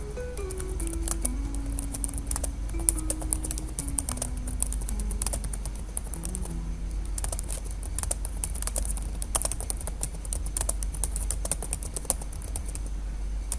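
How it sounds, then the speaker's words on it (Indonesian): Rapid, uneven clicking of fingers typing on a computer keyboard during office software work, with close, crisp keystrokes running steadily throughout over a low background hum and soft tones. "Usahakan ngetik dengan cepat ya, belajar mengetik dengan cepat menggunakan 10 jari."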